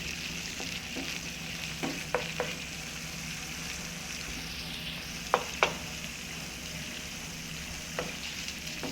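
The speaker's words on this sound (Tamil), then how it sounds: "ஸோ நல்லா ஒரு கொதி வரட்டும்." Fish in oyster sauce simmering in a pan, with a steady bubbling sizzle throughout and a few sharp clicks of stirring utensils scattered over it, no voices.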